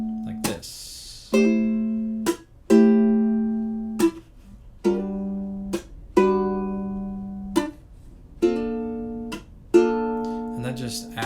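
Ukulele strummed chords with hammer-on embellishments on the third string, about eight separate bright strums each ringing out and decaying before the next, played alone and close.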